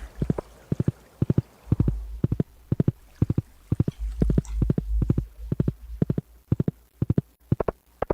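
Rhythmic clip-clop of horse hooves as a ridden horse travels quickly in a video game, steady groups of sharp hoofbeats with low rumbling underneath.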